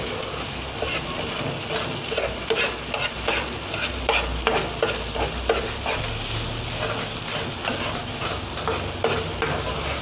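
Sugar is stirred into semolina milk halwa in a pan, a busy rhythmic scraping and stirring over a soft sizzle, fairly close and loud with no talking.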